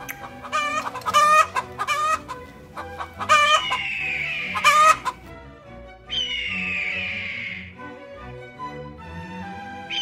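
A rooster crows loudly several times, with clucking fowl in between, up close and without any talking.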